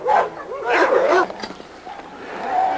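A young dog gives a few short yips and whimpering barks close by, mixed with a person talking nearby.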